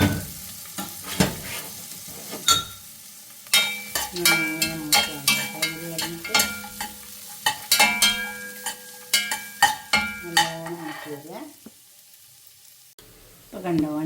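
Cashews, raisins, onion and a dried red chilli sizzle and fry in ghee for coconut rice, with a spoon repeatedly stirring and scraping the pan in quick clinking strokes up close.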